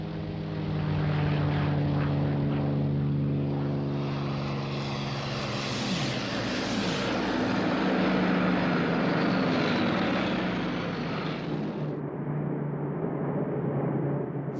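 WWII German aircraft, Messerschmitt 109 fighters escorting bombers, drone overhead with a loud, continuous propeller-engine roar that swells and shifts in pitch as they pass, with no talk.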